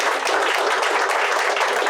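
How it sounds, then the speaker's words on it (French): Audience applause at a French business event about optimism, a dense, steady wash of many hands clapping at full loudness for the whole stretch, with no talk over it. "on va vous applaudir"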